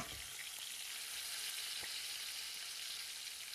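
Salmon pieces frying in a pan make a soft, continuous hiss that stays even and fairly faint throughout, with one small pop partway through.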